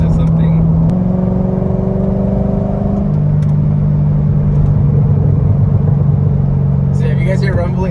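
A C6 Corvette V8 rumbles loudly and close from the cabin, a steady deep exhaust drone with shifting engine tones while driving, without clear distinct pops.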